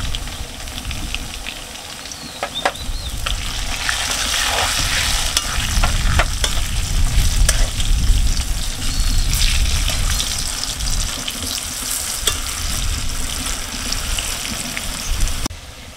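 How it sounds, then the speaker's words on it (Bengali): Potatoes seasoned with salt and turmeric fry loudly in a pan, giving a steady close sizzle with frequent stirring scrapes and clicks throughout. No one speaks. "আমার আলুটা ভাজা হয়ে গেছে"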